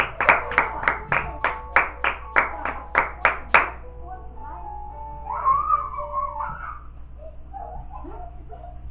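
Rhythmic clapping from a church congregation, about a dozen close, sharp beats for a few seconds, then fading into quieter murmuring and faint voices.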